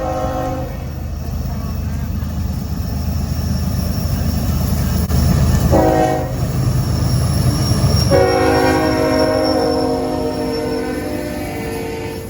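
A CSX freight train, K422, rolls past with mixed freight cars ahead of an ethanol block, its horn sounding in steady blasts over the continuous loud rumble and rail noise of the passing cars.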